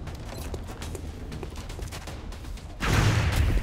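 Gunfire from the video game XCOM: Enemy Within, a run of rapid shots with mechanical clatter that swells into a louder, heavier burst toward the end.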